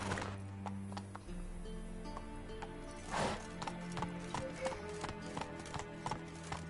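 The horse Roach trots along in The Witcher 3, its hooves clopping in a steady, close rhythm over a low ambient game bed, with a brief louder swell partway through.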